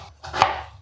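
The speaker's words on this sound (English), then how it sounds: "let's chop these up. Get half the onion" A knife chops half an onion on a board for a leek and potato pie, giving two or three quick, close, crisp cuts within a moment.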